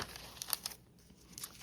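Sheets of typing paper are handled while flipping through a junk journal. Soft, faint crinkles and rustles come in brief flurries, close and quiet.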